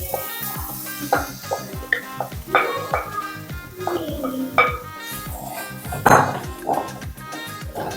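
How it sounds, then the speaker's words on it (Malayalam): Ripe honey jackfruit being stirred in a hot pan: repeated scraping strokes of a spoon against metal with soft sizzling and occasional clinks, close and steady, with no talk. "നമ്മുടെ തേൻവരിക്ക ചക്കപ്പഴം നമുക്ക് പാനിലേക്ക് നമ്മൾ ഇട്ട് കൊടുക്കണം കേട്ടോ"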